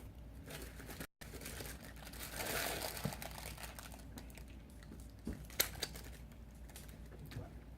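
Parchment paper crinkles and rustles softly in irregular bursts, close by, with a few sharper crackles, at a doughnut-tasting table with Tim Hortons treats.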